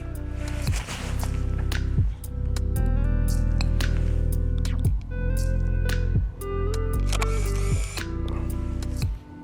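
A film SLR camera with an ultrasonic autofocus motor, loaded with Ektar 100, whirs through several repeated mechanical cycles, close and fairly loud, each ending in a brief pause.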